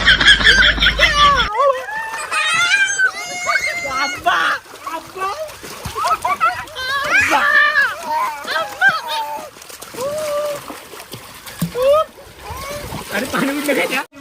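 Water splashes and sloshes repeatedly while children shout, chatter and giggle close by, their voices often louder than the splashing.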